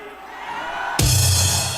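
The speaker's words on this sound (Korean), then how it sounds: "지금 저에게 보내주신 환호는" A crowd at an outdoor political rally in Gwanghwamun bursts into loud cheering and whooping partway through, a sudden dense roar that stays strong to the end after a quieter stretch of murmur.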